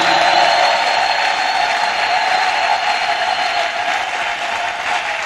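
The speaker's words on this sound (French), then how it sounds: "Acclamons le ressuscité du troisième jour." A church congregation applauds the risen Christ, a steady wash of many hands clapping that holds loud and even for several seconds, then eases off slightly near the end, with no voices standing out.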